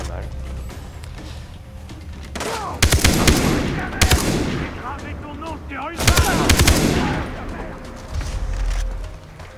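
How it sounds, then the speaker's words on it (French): Bursts of automatic gunfire from the Far Cry 3 video game, two long loud volleys with scattered single shots between, mixed with game ambience and someone talking over it. "donc il tire très très mal."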